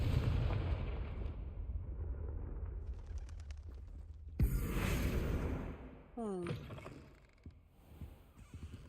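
A Confringo blasting spell in the game Hogwarts Legacy sets off one sudden, fairly loud explosive burst midway through, over a low rumbling game background, followed by bright chirping and fluttering effects.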